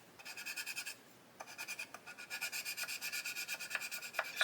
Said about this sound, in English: Just want to take away this paint so I get a good strong bond.